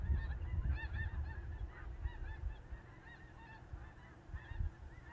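A flock of snow geese honks steadily, many overlapping calls near and far at a moderate level over low wind rumble.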